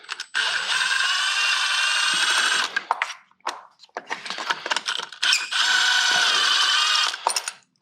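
Spark plugs on a Mazda CX-5 being removed with a ratchet, sustained buzzing whirs of a few seconds alternating with scattered clicks and tool handling, close and loud.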